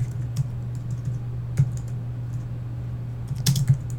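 Light, steady tapping on a computer keyboard while fancy text is entered into a web page builder, soft scattered keystrokes with a few sharper clicks over a low electrical hum.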